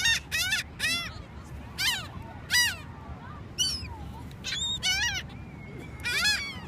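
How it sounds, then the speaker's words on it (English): Seagulls crowding in to be fed on a Wildwood, New Jersey beach let out repeated harsh, laughing calls in loud separate bursts, close by, with faint crowd or wind noise between them. "These are the best seagull noises ever."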